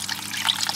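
Tap water running into a balloon being filled for a water fight, a steady hissing trickle with small splashy fluctuations, close and fairly loud, with no talking over it.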